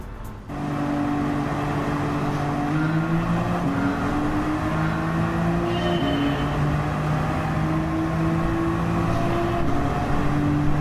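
BMW M Performance 550 racing cars in Gran Turismo 7 drone steadily as they head out onto the track, a sustained engine tone with shifting pitch that stays loud and continuous throughout.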